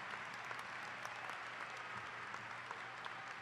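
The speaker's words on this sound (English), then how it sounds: "can we also give a firm round of applause for all the parents, family, community, and faculty" Sustained applause from a sizable crowd at a high school graduation ceremony, dense steady clapping with no voices.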